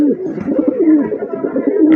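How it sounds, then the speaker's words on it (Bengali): A large male pigeon coos close and loud, a continuous throaty warbling call rising and falling over two seconds with no other sounds. "বিগ সাইজের একটা নর কবুতর"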